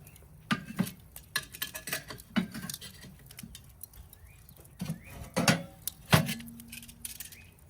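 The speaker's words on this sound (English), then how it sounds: "we gotta throw in the deflector plates" Metal deflector plates set into a grill for indirect cooking, producing a series of irregular clanks, taps and scrapes at close range, with one louder ringing knock near the end.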